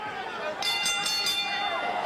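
A boxing ring bell clangs several quick times to end a round in a pro bout, ringing bright over crowd noise while a commentator talks throughout.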